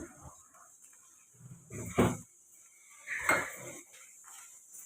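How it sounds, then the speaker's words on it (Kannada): Frying pan set down on a stove with oil spooned in for ridge gourd chutney: two loud metallic clanks of cookware around the middle and later, separated by quieter kitchen clatter and rustling, with no talking. "ಸ್ಟವ್ ಅಣಿಸ್ಕೊಂಡು ಬಾಣಲೆ ಇಟ್ಬಿಟ್ಟು ಎರಡು ಚಮಚ ಎಣ್ಣೆ ಹಾಕ್ಕೊಂಡು"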